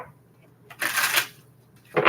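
Tarot cards are shuffled in two quick riffling bursts, close up, with a short pause between them.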